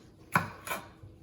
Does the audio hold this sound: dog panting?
no